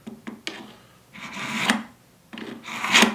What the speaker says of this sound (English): So continue sharpening.